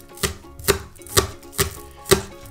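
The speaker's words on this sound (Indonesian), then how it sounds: "Potong bawang, daun bawang ya" Onion and spring onion chopped with a knife on a board, five sharp evenly spaced knocks about half a second apart, close and alone with no talk.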